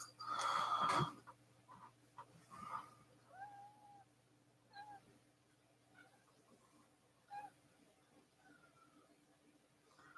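A domestic cat meows, opening with one loud, close, wheezy cry and then making several softer, shorter meows and chirps spread out over a quiet room.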